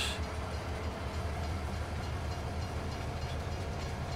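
Train rumbling along the rails in Farming Simulator 22, a steady continuous low rumble with a faint rhythmic clatter, close and unbroken for the whole stretch, with no talk.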